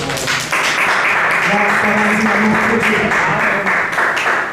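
A church congregation applauds to acclaim the word of God, a dense, loud burst of clapping that swells and carries on steadily throughout, mixed with voices in the hall.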